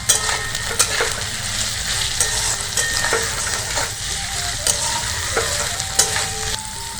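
Ginger paste and capsicum stir-fried in a pan for veg chowmein, a steady close sizzle broken by repeated scraping stirs of the spatula, with no talking.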